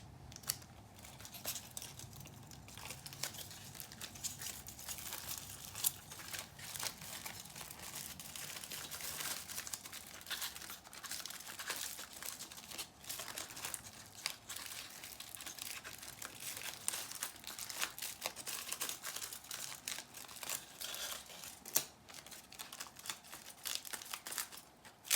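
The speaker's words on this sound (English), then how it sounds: "A little bit more masking tape." Masking tape pulled and crinkled while wrapping a Powertex scarecrow craft piece, a continuous close run of papery crackles, rustles and small tearing snaps with no talking.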